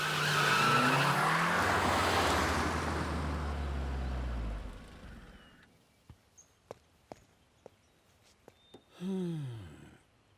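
A car pulls away with loud tires squealing and skidding, the roar fading into the distance, followed by a few sharp footsteps or taps and a brief, sighing voice.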